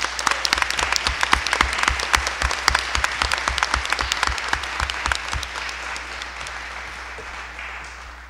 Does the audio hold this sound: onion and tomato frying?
no